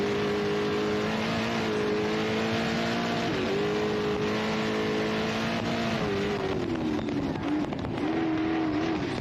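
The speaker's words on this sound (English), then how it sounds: "he's in 3rd gear right now, but saying they wouldn't downshift to 2nd" A race car engine at the ARB Big Desert 480 desert race holds a steady drone in third gear, with slight pitch wobbles as the revs shift, loud and continuous with no voices.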